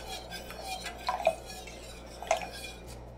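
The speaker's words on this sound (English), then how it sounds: "We can go ahead and add the broth while we're stirring." Broth going into a flour roux in a pot while a utensil stirs, giving faint scrapes and a couple of brief metallic clinks against the pot, quiet and close.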